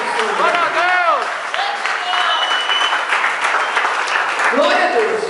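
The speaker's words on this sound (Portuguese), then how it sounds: "Aplauda o nome dele." A church congregation claps and cheers during a worship service, steady applause with shouted voices and a preacher's vocal exclamations rising over it.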